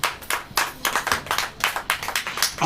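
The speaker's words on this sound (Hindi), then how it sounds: "ताली बजाइए।" Congregation clapping hands during a sermon, a quick run of sharp claps close by, uneven and slightly ragged in rhythm, with no voices over them.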